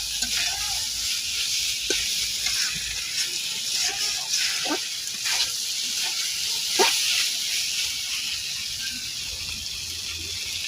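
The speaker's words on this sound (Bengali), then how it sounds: "মশলাটা হালকা একটু ভাজা ভাজা করে নিব।" Spice paste fries in a pan with a steady, bright sizzle and hiss, broken by occasional scraping stirs and clicks. The sound is close and continuous across the whole stretch.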